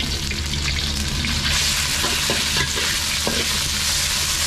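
Beef shank stir-frying in an iron wok at a restaurant, a steady loud sizzle with scraping stir strokes throughout, no talk.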